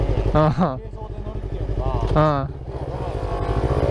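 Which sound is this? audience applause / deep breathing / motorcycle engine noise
motorcycle engine noise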